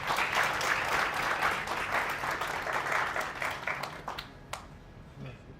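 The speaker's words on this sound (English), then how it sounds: "Let's welcome him with a big round of applause." An audience at a university induction program breaks into loud, sustained applause that thins out and fades into a few scattered claps toward the end.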